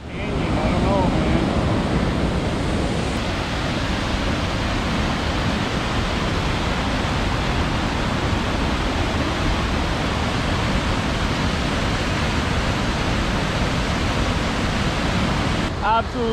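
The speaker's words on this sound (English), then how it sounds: "Absolutely beautiful freaking waterfall here." A wilderness waterfall roars in a steady, loud, unbroken wash of rushing water that fills the whole stretch, close by and without any break.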